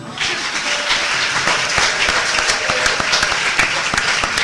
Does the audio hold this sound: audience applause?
yes